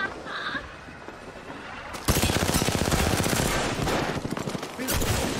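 Automatic gunfire from weapons in Apex Legends erupts after about two seconds of quiet and continues as dense, loud, rapid bursts through the rest of the moment.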